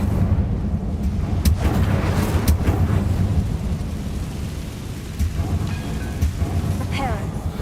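An Incendio fire spell cast in Hogwarts Legacy gives off a loud, steady, roaring rumble with a few sharp crackling bursts, carried over a dense game soundscape throughout.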